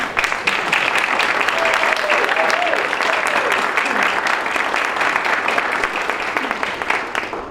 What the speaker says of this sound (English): Let's give him a rousing applause.